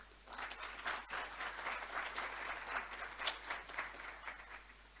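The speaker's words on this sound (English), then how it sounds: "help me applaud" An audience claps at a panel discussion to welcome a speaker, with steady, full applause that lasts the whole time at an even level.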